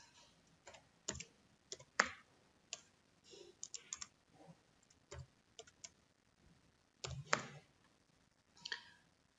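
Scattered computer mouse clicks and short bursts of key taps enter a code for a purchase request in project management software, irregular and sparse with pauses between, close and quiet, with no talking.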